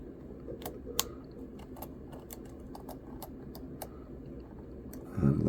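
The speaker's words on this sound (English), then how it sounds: "I'm trying to stick the keycap on again" Plastic keycap being pressed onto an HP Pavilion DV5 laptop keyboard: a quiet string of small clicks and taps, some sharper snaps, over faint room noise, with a louder rustle at the very end.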